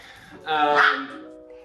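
A dog gives a single short, harmonic bark or yelp in a home with several dogs, loud and close, with breathing and faint movement before and after it.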